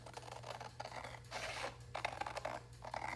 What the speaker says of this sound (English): So I'm gonna just cut it by hand.